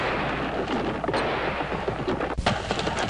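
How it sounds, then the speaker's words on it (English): Artillery booms and rumbles in a Civil War Generals 2 battle, with dense, loud cannon fire rolling continuously and one sharp blast standing out near the end. "My artillery has won the day, gamers."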